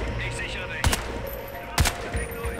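Two sharp three-round bursts of rapid gunfire in Crysis 3, about a second apart, with a fainter shot near the end, over a low background hum.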